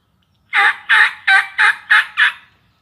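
A mouth-operated turkey call, worked by light tongue pressure, imitates a turkey with six loud, evenly spaced yelping notes in quick succession, close and clear against silence.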